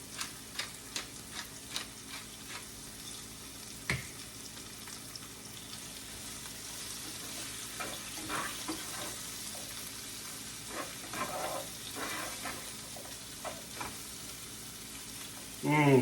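Omelette ingredients sauté in a hot pan with steady sizzling and frying, punctuated by repeated light ticks and clicks of stirring, close and moderately loud, with no talking.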